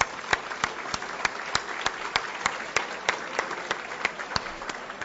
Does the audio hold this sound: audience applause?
yes